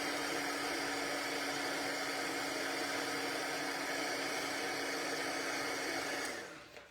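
A handheld craft heat tool blows hot air to dry glue on a leaf label, giving a steady, close whooshing hum that winds down and cuts off at the end.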